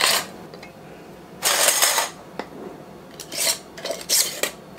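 Metal canning lids clink and scrape as they are set onto fourteen quart jars of beef roast, a few sharp bursts of metallic rattling separated by brief quieter gaps, close by.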